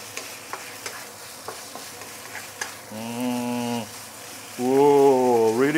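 Pork stir-fried with dried chili and ginger in a pan: soft sizzling under scattered clinks of a spatula, then two longer stretches where a steady droning tone rises over the frying.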